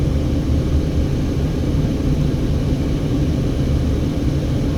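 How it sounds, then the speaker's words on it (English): A car drives over the Hoover Dam on the Interstate 11 bypass bridge, giving a steady, loud, close rumble of road and engine noise with no voices. "We're driving over the Hoover Dam."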